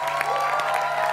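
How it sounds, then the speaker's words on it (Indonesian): Brief burst of audience clapping and light cheering for a child reciting a poem, a dense patter of many hands, moderately loud and steady, with no talk over it. "Yuk, ayo tepuk tangannya mana."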